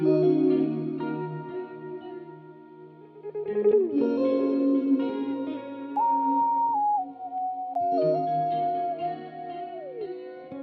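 An R&B beat with a smooth synthesized sine lead gliding through simple sustained fills and pitch steps, layered over warm chords and reverberant bass. No voices.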